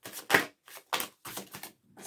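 Oracle cards with flowered hearts are shuffled and riffled in short bursts, several quick papery flutters separated by brief pauses, close and fairly quiet, no speech.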